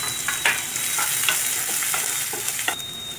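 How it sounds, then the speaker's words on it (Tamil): Steady, bright sizzling of chopped shallots frying in hot oil, with occasional clinks and scrapes of a spoon stirring the pan. "நெக்ஸ்ட்டு நறுக்குன சின்ன வெங்காயம் சேர்த்து வதக்கிக்கோங்க"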